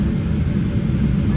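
An airplane taking off roars as a steady low rumble with broadband engine noise, loud and constant through the brief moment with no speech.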